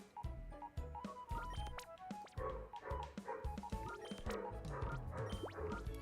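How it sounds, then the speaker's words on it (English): A dog barks repeatedly indoors during a game stream, sharp bow-wow barks and yips in an uneven rhythm with brief whimpers between them, fairly quiet and somewhat distant. "Oh god, the dog is barking again."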